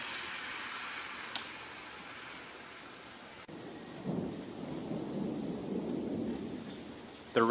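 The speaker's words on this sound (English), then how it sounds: "The rain slowed down a little bit." Rain falls steadily during a storm in Tucson, Arizona, a constant hiss that grows heavier partway through, with a brief sharp knock near the start and a louder gust at the end.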